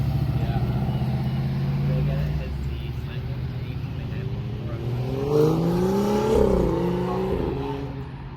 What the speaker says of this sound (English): Burnout. Do a burnout.